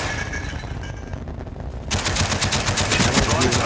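Rapid automatic gunfire from Call of Duty Black Ops rattles loud and close throughout, growing denser and louder partway in, with a voice heard under the shots.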